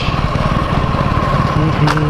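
A motorcycle engine idles loudly and close by, a steady low chugging rumble throughout.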